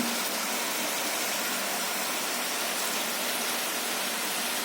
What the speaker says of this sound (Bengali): তাই বলে কি খুব সকালে বৃষ্টি হবে?